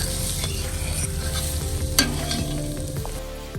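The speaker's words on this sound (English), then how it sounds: "give it a little stir, stir, stir." Brisket and pinto beans cooking in a pot on a PK grill get a steady stir, with a close scraping, bubbling churn that runs unbroken throughout and one sharp clink of the utensil midway.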